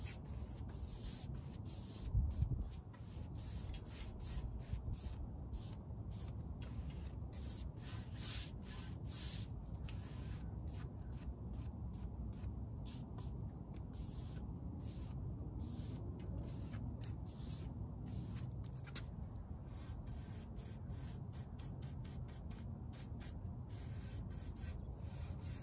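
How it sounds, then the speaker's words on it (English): Brush applying all-in-one mineral paint to a wooden plant stand, a faint, continuous soft rubbing and swishing of bristles in steady strokes, with quiet surroundings. "I'm applying the paint in the middle of my section and then smoothing it out side to side"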